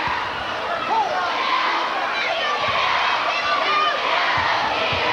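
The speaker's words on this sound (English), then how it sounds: "Still a very spirited crowd." A spirited crowd in a high school basketball gym, Franklin at Garfield, keeps up a steady roar of cheering and chatter with scattered shouts, loud and continuous over the whole stretch.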